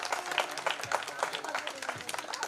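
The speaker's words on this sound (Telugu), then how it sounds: "Claps claps please claps." An audience at a stage event claps in close, uneven bursts. Individual hand claps stand out from the crowd, and a voice talks over parts of it.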